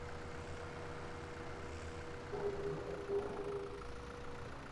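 A tractor engine in Farming Simulator 2017 hums at a steady idle-like drone, fairly faint and even, with a slight rise in tone partway through.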